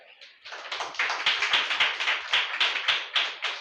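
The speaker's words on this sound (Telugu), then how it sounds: "అర్థమైతే చప్పట్లు కొట్టా" A church congregation at a Sunday service claps rhythmically in unison, sharp regular beats roughly three per second, loud and close, following a brief murmur at the start.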